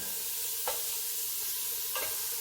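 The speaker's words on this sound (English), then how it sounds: "we're going to let this meat cook just a bit" Ground beef, 90/10 lean, sizzles steadily in a pan with garlic, a constant close frying hiss with two brief scraping stirs.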